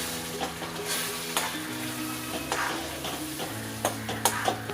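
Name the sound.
stirring gravy in frying pan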